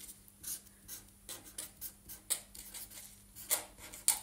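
A pen that is failing to write scratches across paper in short, rhythmic strokes, close and quiet, with small pauses between marks.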